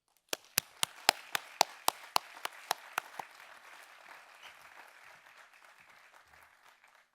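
An audience applauds a diplomat, Ambassador Vinay Kwatra, as he is welcomed onto a stage at a keynote event. A run of loud, crisp claps opens it, then a dense, softer wash of clapping gradually fades away.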